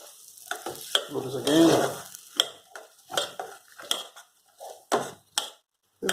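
Thick ragi mudde being stirred and mixed in a pot held by a handle, with irregular scraping and thudding strokes of effort and brief pauses between them.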